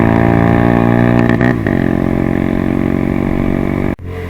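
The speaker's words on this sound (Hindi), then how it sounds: "बहुत जोर लग रहा है बाइक का" A motorcycle engine drones loud and steady as it strains uphill on a mountain road toward Babusar Top, shifting pitch midway and briefly cutting out near the end.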